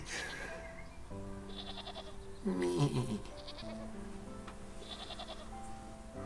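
Sheep bleat repeatedly in the farm video game Wytchwood, several drawn-out bleats over steady game music, with a louder, busier burst near the middle.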